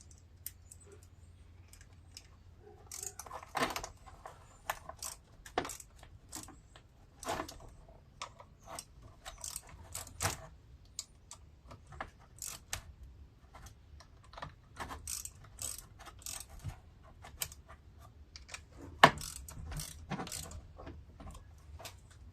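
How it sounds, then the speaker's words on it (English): Bolts being tightened on the carburetor of a John Deere LA150 riding lawn mower, heard as sharp, close metallic clicks and taps in irregular bursts over a low hum, with no talking. "Alright, I gotta tighten these down before I can put anything else on."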